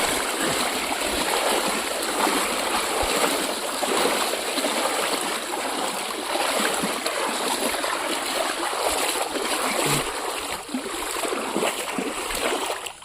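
Legs wading through knee-deep water in a rural stream in Purulia, a continuous close sloshing and splashing wash with no talk.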